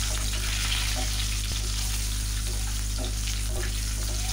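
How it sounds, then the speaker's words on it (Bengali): Eggs fry in hot oil seasoned with salt and turmeric, giving a constant close sizzle with faint pops and light stirring sounds. "এখানে সামান্য লবণ আর একটু হলুদ দিয়ে আমি ডিমগুলোকে ভেজে নেব।"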